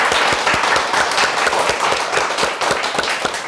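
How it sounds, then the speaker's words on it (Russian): An audience in a hall applauds, dense steady clapping from many hands filling the space at a constant level with no speech over it. "Давайте похлопаем."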